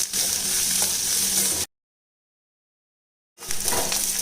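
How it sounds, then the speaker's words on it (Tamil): Onions sauté in a pan with curry leaves and green chilies, a steady close sizzle and crackle of frying that cuts out completely for nearly two seconds before resuming. "இப்போ இந்த வெங்காயம் நல்லா வதங்கி வரட்டும்."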